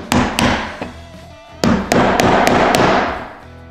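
A small hammer taps a seal into place on a Cummins engine, about eight sharp metallic taps in two groups, close and loud, with ringing decay between strikes.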